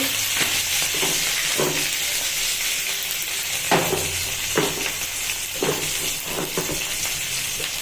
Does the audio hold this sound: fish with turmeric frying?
yes